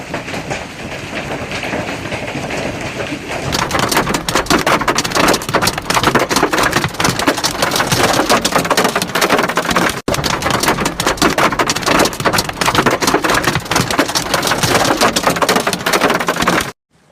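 Heavy rain and hail pour down during a thunderstorm in Shandong, China, a dense, loud, continuous hiss and clatter with a brief dropout midway and no voices.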